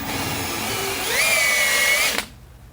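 A power drill cuts through a rubber rear suspension bushing on a 1993 Chevrolet S10: a loud, steady whirring whine that rises slightly in pitch midway, runs about two seconds and stops abruptly.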